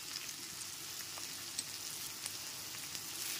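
Chopped green chillies go into onions frying in a pan for a chicken and capsicum dish, giving a steady, close sizzle with faint crackles throughout.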